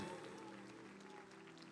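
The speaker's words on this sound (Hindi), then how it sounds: "एक बार जोर से ताली बजाओ परमेश्वर के लिए," A church congregation claps loudly together during a worship service, a dense, continuous burst of applause with no break.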